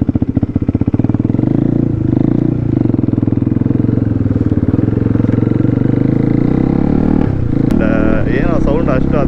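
A KTM 390 Adventure motorcycle with its silencer fallen off after off-road riding runs loud and raw, its harsh, rapid, pulsing exhaust thrum steady up close, then rising in pitch as it revs near the end.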